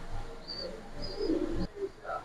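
Racer pigeons coo softly in a few low, short calls at close range, with faint background noise and no clear talk.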